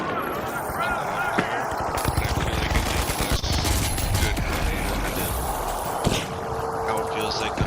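FAMAS assault rifle fire in a first-person shooter: repeated crackling bursts run through the clip at steady loudness, while someone talks over them.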